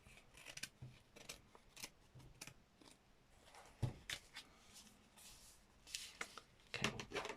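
Scissors snipping through stiff card while finishing a handmade gelli-print doodle book, a string of short crisp cuts and rustles, close and fairly quiet, with no talking.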